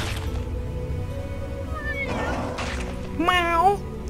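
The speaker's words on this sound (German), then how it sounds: "Miau! Katze!" Cat meowing in the Little Witch Nobeta video game, a few short meows with a louder, rising cry near the end, heard over steady background game music with no talk.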